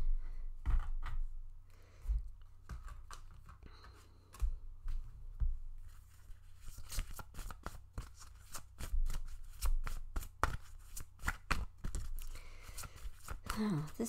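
Tarot cards being shuffled by hand at close range, a rapid series of crisp riffling and slapping bursts that thicken into a dense flurry toward the end, with a voice murmuring in the background.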